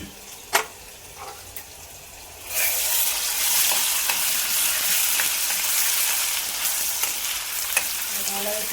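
Ginger garlic paste hits hot oil in a pan for chicken tikka biryani gravy, bursting into a loud, steady sizzle after a few clinks, with stirring scrapes throughout.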